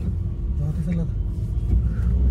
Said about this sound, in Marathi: गाड्या गाड्या गाड्या गाड्या नुसत्या गाड्या आहेत.